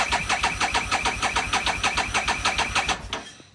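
The starter of a Harley-Davidson XG750 motorcycle cranks its engine at low RPM without it firing, a fast even chugging of about five beats a second for three seconds, then it stops.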